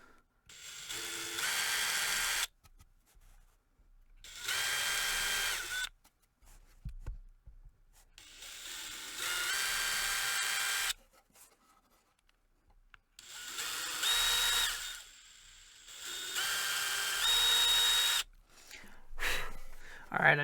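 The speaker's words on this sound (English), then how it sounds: "So we're just going to come through and drill these real quick." A power drill whirs in several long bursts separated by short pauses, loud and close, with brief quiet gaps between holes drilled in a guitar neck joint.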